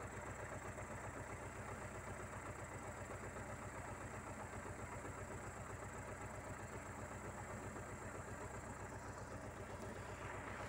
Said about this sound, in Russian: Все, пресс работает, нормально работает пока.